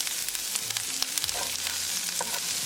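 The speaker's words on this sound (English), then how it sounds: "As butter started to melt, add garlic, add ginger, green chili." Garlic, ginger and green chili sizzle in melted butter in a pan, a steady close frying crackle with light stirring scrapes and no talking.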